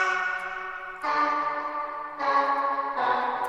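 A vocal one-shot sample drenched in heavy Valhalla VintageVerb reverb, heard as four sustained, shimmering tonal hits that each start abruptly and ring into a long wash, loud and alone.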